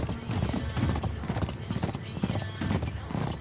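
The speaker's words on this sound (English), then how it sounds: "Riding a horse like this through the game is very cool." Rhythmic clip-clop of horse hooves at a steady gallop in the video game Uncharted 3: Drake's Deception Remastered, close and clear, with a brief whinny and some speech mixed in.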